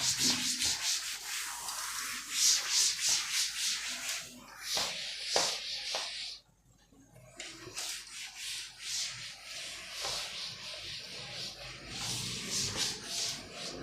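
A classroom board is erased with repeated rubbing strokes, a loud, close, scratchy sanding-like swishing that continues throughout with a brief pause near the middle, and a teacher's voice occasionally comes through.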